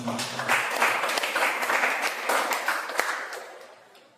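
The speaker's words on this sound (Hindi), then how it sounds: "एक बार उनके लिए जोरदार तालियां हो जाएं।" A church congregation at a Sunday service breaks into loud, sustained applause that fills the room with dense clapping, tapering off toward the end.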